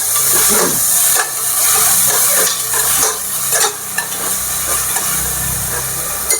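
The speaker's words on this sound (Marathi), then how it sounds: "आणि आता चटचटीत हलवून घेऊया" Noodles are stirred and tossed in a hot pan with green chilli sauce, giving a loud, continuous sizzle and hiss broken by scraping strokes, with no talk over it.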